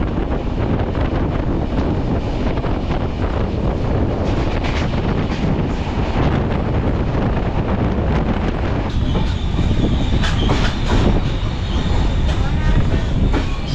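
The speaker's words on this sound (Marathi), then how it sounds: "दिवा मंगळुरू, मला वाटतं स्पेशल ट्रेन होती वाटतं" A Diva–Mangaluru special passenger train rolls past at Aravali Road station in the morning, a steady loud rumble of wheels and cars lasting throughout with wind buffeting the microphone and some squealing near the end.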